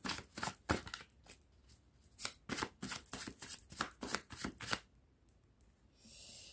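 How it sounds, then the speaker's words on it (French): Tarot cards are shuffled and handled close up. Rapid, papery riffles and snaps come in uneven bursts, then ease off into quieter rustling toward the end. "je vais prendre deux petites cartes là-dessus"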